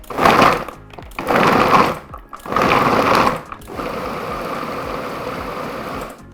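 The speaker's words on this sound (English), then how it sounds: "We're gonna add this to our food processor. We're gonna put the lid on, and I'm just gonna pulse this a few times" A food processor pulses frozen bananas in bursts: three loud whirring pulses separated by brief pauses, then a steadier, continuous run of the motor, with no voices.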